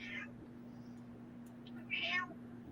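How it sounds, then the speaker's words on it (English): A house cat meows twice, once at the start and again more loudly near the end, against a faint steady hum with no voices. "All I can hear is your cat."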